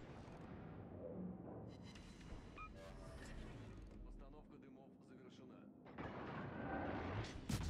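Warship gun salvos in the naval video game World of Warships, heavy booming blasts with rumbling tails and mechanical creaks, firing from smoke under a voice, with a fresh louder volley near the end.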